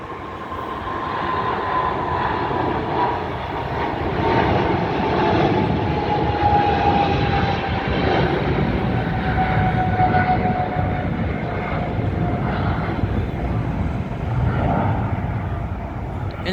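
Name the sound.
Air China Boeing 787 airliner taking off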